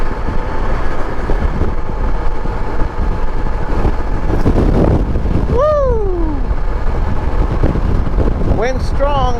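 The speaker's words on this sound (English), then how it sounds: "wind strong." Strong gusting wind roars across the microphone of a 1994 Honda ST1100 motorcycle riding on a highway, a dense steady rush that buries everything, with a few brief chirping sweeps near the end.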